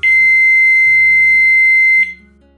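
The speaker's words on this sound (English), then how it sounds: "A long beeping sound indicates the segment time countdown reaches zero." A single long electronic beep from an Ultrak SG-10 timer sounds loudly for about two seconds as the segment countdown reaches zero, a steady high tone that cuts off abruptly.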